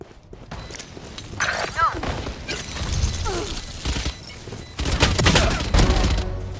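Gunfire in a video game: bursts of rapid shots and thuds rise and fall, loud and close, with a few louder volleys near the end and excited talk mixed in.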